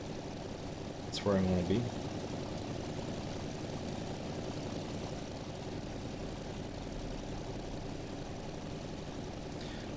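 Steady propeller engine drone of an F4U-1A Corsair cruising in flight in Microsoft Flight Simulator X, continuous and even throughout, with someone briefly talking over it near the start.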